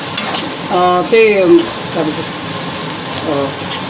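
Shevla wild vegetable greens sautéing in a pan, a steady soft sizzle with scraping stirs, while a voice talks over it for part of the time.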